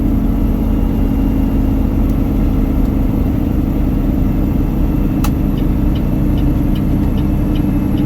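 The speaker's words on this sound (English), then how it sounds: "Shift down, let this Jake brake work its magic." A truck descends a highway exit ramp with its Jake brake engaged after a downshift, giving a loud, steady, close engine rumble that holds without a break throughout.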